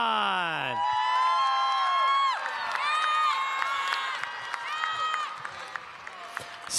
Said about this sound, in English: And let's make some noise for Ashley Sanford and Megalodon.